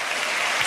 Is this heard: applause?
yes